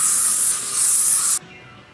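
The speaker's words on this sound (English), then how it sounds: "She's applying bug spray, which I'm about to have to do." Bug spray hisses from an aerosol can in a steady, close burst of about 1.4 seconds that stops abruptly, followed by a quiet room.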